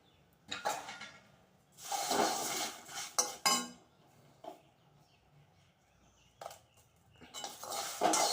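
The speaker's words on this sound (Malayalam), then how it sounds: "ഇനി നമുക്ക് ആദ്യം വറുത്ത് വെച്ചിരിക്കുന്ന വറുത്ത് വെച്ച എല്ലാ സാധനവും കൂടെ അതിനകത്തോട്ട് ചേർക്കാം" Roasted sambar spices are tipped back into a pan and stirred, with scattered metallic clinks, scrapes and knocks of a spoon against the pan arriving in separate bursts between quiet gaps.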